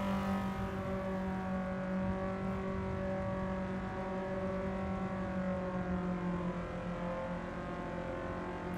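Honda Civic EG race cars idle and rev together on the grid at Castle Combe for a Civic Cup race start, a steady continuous engine drone held close throughout with no talk.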